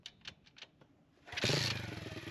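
A motorcycle engine catches on the first try after a few faint clicks, bursting into a loud, steady idle that keeps running close by.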